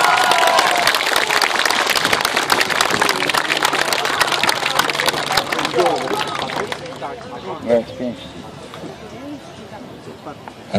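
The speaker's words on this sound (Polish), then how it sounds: "czekamy na wielkie brawa" Applause and crowd noise at a taekwondo demonstration fill the first half, then fade as someone talks loudly in Polish over a quieter room.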